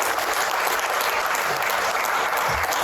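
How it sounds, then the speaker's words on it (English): An audience at an economic club event on digital assets gives its speakers a round of applause, a loud, dense and steady burst of clapping. "if you guys could give all of our speakers a round of applause right now"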